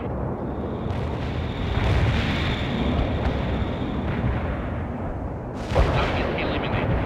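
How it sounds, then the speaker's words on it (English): Soviet units firing weapons in the World in Conflict video game: deep booming artillery-like blasts and rumbling over a constant battle din, with a sharp louder impact near the end and game voices under it. "Firing at the enemy."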